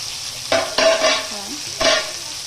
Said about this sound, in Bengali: দেখুন এবার আমি এটাকে খুব ভালো করে কষাবো।